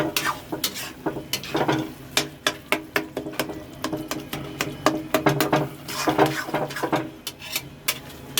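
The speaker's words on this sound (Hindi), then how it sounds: "अब इसको हम अच्छे से मिक्स करेंगे।" Paneer pav bhaji being stirred and mixed in a pan at a street food stall, with a steady run of scraping, clattering spatula strokes close up over a soft sizzle.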